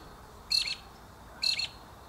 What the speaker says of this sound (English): What sort of bird is that? High up in the gum tree.